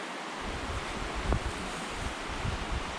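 Cispus River running milky with upstream snowmelt, a steady broadband rush of water mixed with wind buffeting, heard outdoors with no voices.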